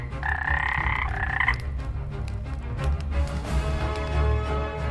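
Frogs or toads croak loudly in a dense, continuous chorus as part of a fairy-tale scene, with a sharp tonal call standing out near the start and no talking.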